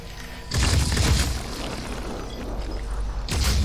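Heavy explosions boom in the tactical video game Phoenix Point: a loud blast hits suddenly, its rumbling tail lingers, and a second burst erupts near the end.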